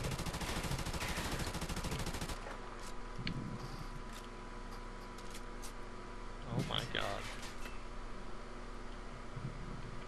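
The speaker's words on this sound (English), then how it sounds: "Lance with the AK" Burst of AK rifle fire in Call of Duty: Modern Warfare Remastered, a dense rapid rattle for about two seconds, followed by scattered game effects with commentators talking over it.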